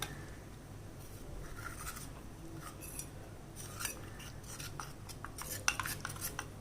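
A spoon stirs custard powder into cold, unboiled milk in a bowl, giving light scattered clinks and scrapes against the side over a low background hum.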